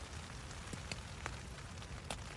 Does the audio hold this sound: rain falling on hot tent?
yes